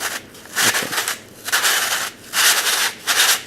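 Rough, gritty rubbing and scraping of puzzle pieces in short repeated strokes, like sandpaper on a hard surface, close and moderately quiet.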